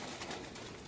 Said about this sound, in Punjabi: ਇਹ ਬਸੰਤੀ ਹੈ ਸਾਡੀ ਮੇਰੀ ਫੇਵਰੇਟ ਕਬੂਤਰ